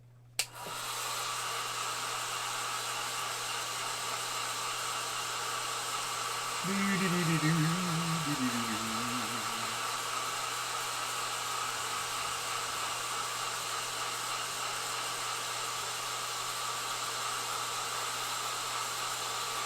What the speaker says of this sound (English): Screw it, we'll whip with the hairdryer.